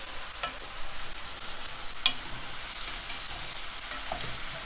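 Spices being stirred into Japanese curry in a pan make soft, low scraping and shuffling sounds, with a single sharper click partway through and a faint background hiss.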